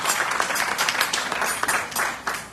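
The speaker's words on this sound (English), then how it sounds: "Please give him a round of applause." Applause from a family gathering at a Hindu yagna ceremony, honoring a young man's 25th birthday; scattered, uneven clapping with moderate loudness and irregular individual claps standing out.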